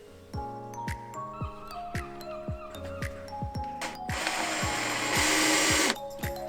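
Parts are screwed in place inside a camper van during an electrical install, a series of short tool bursts and clicks followed by a louder sustained drill-like whirr, close up and without talking.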